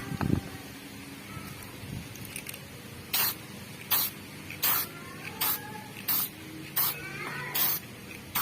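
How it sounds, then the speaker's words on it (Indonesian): An aerosol can sprays protective coating onto an SMPS power supply board in a series of about seven short, evenly spaced hissing bursts, close and crisp, after some quieter handling sounds. "Nah, di bagian atas sudah juga saya semprot."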